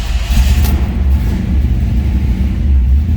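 A 1963 Chevrolet Impala two-door hardtop with a ZZ4 V8 runs at a steady, loud idle nearby, a deep throbbing rumble with no other sounds over it.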